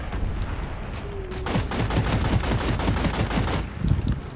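Fast rattling machine-gun fire in a sci-fi mining co-op shooter, a steady burst of rapid shots lasting a couple of seconds at moderate distance, with no talk over it.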